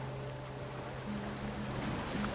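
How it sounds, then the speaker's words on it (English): Steady broadband rush of a waterfall in Elder Scrolls Online, a continuous roaring wash of falling water with a low hum beneath, close and unbroken throughout. "Here, behind the waterfall!"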